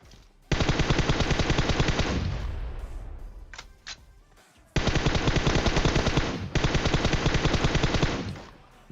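Long automatic gunfire sprays in the PUBG Mobile video game, three rapid sustained bursts with a short gap and a couple of single shots between them, loud and close.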